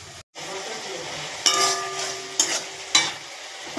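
A spice paste stirred and sautéed in oil gives a soft, close sizzle, broken by several bright clinks of a ladle striking the pan at uneven intervals; no one talks.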